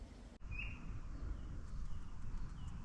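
Evening birdsong at an outdoor bikepacking camp spot: a brief clear bird call early on, then faint scattered chirps over a steady low background rumble, with no talking.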